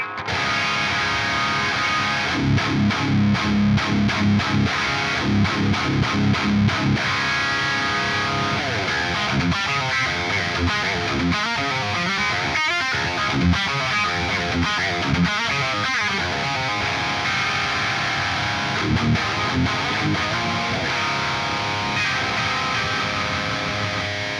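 An electric guitar plays chords and riffs through a Horizon Precision Drive overdrive pedal into an AM4 amp modeler, bright and gritty, with sharp strummed attacks early on and ringing, slightly distorted notes throughout.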